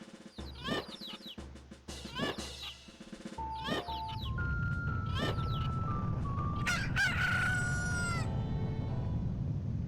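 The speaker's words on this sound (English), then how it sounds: "Now they'll all turn into roosters" Several roosters crow one after another in the video game The Legend of Zelda: Majora's Mask, loud and close with repeated cock-a-doodle-doo calls, followed by a steady noisy bed with sustained game tones.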